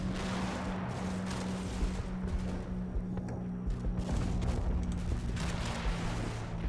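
Dense, continuous gunfire in the World War II tactics game Combat Mission set in Normandy hedgerows, a steady rattle of small-arms and machine-gun fire with a low rumble running throughout, no talking.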